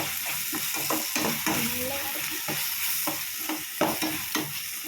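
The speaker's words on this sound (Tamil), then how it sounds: "கரம் மசாலா தூள் போடணும். போட்டு அதையும் நல்லா வதக்கணும்." Chicken thokku masala sautéing with garam masala powder in a pan, a steady sizzle broken by repeated scraping stirs of the spoon, close and fairly loud with no talking.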